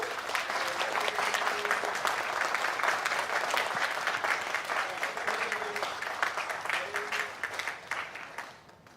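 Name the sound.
audience applause at conference opening ceremony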